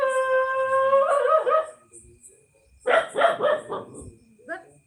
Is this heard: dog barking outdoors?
yes